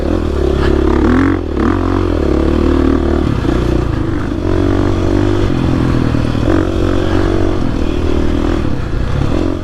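A 2021 GasGas EX-450F dirt bike ridden hard, its single-cylinder engine revving and droning loudly and steadily, with clattering and scraping from the ride.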